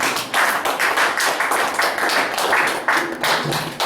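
Congregation clapping in acclamation during a church service, a loud rhythmic burst of many hands clapping in a strong beat, close and full.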